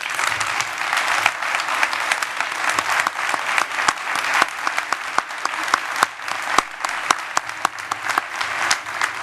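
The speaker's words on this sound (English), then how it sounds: "Please give her a round of applause." Audience applause at the 2009 ALTA annual convention: dense, sustained clapping from a large crowd, steady and loud throughout with scattered sharp claps standing out.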